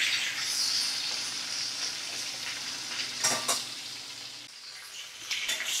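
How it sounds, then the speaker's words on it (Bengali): Prawns sizzle steadily in hot oil in a pan over medium flame, a continuous crackling hiss with a few brief stirring clinks, fairly quiet and without talk. "মাছগুলোকে আমি ভাজছি।"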